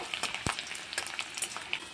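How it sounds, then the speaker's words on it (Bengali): Garlic cloves frying in hot oil that chillies were just fried in, a soft crackling sizzle with a few sharp spatula scrapes against the pan, fairly quiet and close with no talking. "রসুনগুলোকে ভালো করে একটু ভেজে নেব।"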